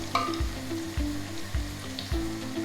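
Cheese doughnuts fry in hot oil in a pot, giving a close, steady sizzle and bubbling crackle with a few soft rhythmic knocks repeating about every half second.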